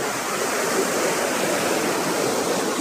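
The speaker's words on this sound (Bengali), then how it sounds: "এটি হলো বোর হিলস ওয়াটারফলস।" Borhill waterfall in Meghalaya, with water dropping from a great height into a steady, dense roar that stays close and constant throughout, with no voices.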